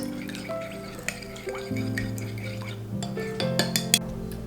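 Butter and yeast are being stirred in a mixing bowl for cinnamon roll dough, giving soft scraping and clinking of a utensil against the bowl, with a few sharper knocks, over a steady low hum.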